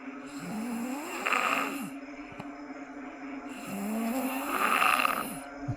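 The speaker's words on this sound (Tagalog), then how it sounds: "Ang lakas ng hilik." A man asleep by a swimming pool snores loudly in two long, rasping breaths, heavy and close, with a quieter pause between them and no talk.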